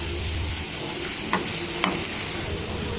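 Sambar powder for mutton keema sambar frying in a pan, with a continuous hiss and sizzle and a couple of faint scrapes as it is stirred.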